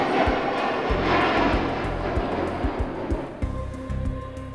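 A large aircraft jet engine roars with a broad, steady rushing drone and a deep low rumble, loud and close with no talking, then shifts to a harsher tone near the end.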